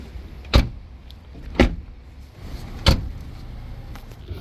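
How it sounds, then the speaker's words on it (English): Three solid thuds of a Rover 216SLi car door slamming shut, evenly spaced about a second apart, close and loud in a quiet setting. "Door shut sounds, yeah?"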